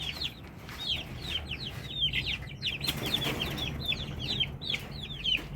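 Many month-old chicks cheep and peep in rapid, overlapping high chirps, continuous and close, over a low background rumble.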